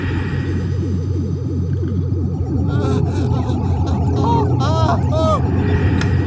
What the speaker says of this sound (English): Tractor beam engage.